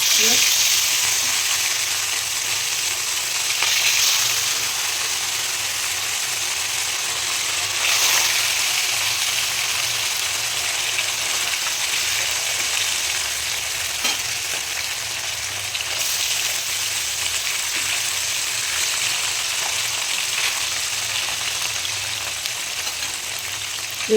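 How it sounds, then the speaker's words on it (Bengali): Fish frying in hot oil for a home-style fish curry, a steady crackling sizzle that runs loud and close throughout with only slight swells. "হালকা হালকা ধোঁয়া উঠে গেছে এইবার আমি দিয়ে দেবো মাছগুলো"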